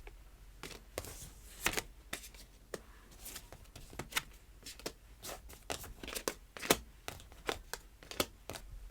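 Tarot cards are shuffled and handled close by, giving soft, quick riffling snaps and papery flicks in an uneven rhythm, quiet and with no talking.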